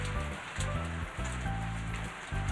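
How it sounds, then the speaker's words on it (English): Steady rain falls in a dense, continuous patter of drops on a surface, with a low rhythmic pulsing underneath and no voices. "It's raining again."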